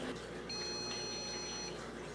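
An iDoo 10-pod hydroponic growing system gives a quiet electronic beep, a faint steady tone lasting over a second beneath a low background hum.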